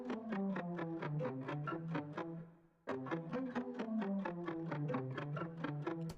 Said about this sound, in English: and then just a little bit of reverb